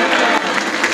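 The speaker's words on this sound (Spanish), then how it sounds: "mandémosle un aplauso al presidente de la República" A crowd applauds at a political rally in the mountain region of Guerrero, Mexico, with dense, steady clapping filling the whole second at close range.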